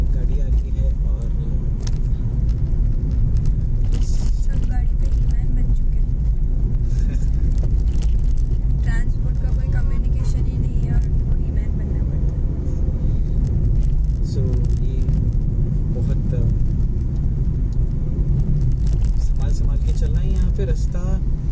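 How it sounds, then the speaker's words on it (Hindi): Steady road rumble from a car on a forest road stretch between Mumbai and Goa as another vehicle approaches from ahead, a continuous engine and tyre drone that fills the whole stretch while people talk over it. "देखिए सामने से गाड़ी आ रही है"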